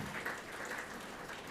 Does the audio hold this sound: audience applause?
yes